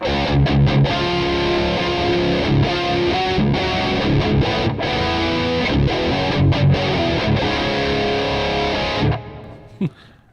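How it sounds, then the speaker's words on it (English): An electric guitar with a barely-there chorus effect plays a loud, dense, distorted passage for about nine seconds with brief gaps, then cuts off abruptly, leaving only a faint trailing noise. "That was like the barely there chorus."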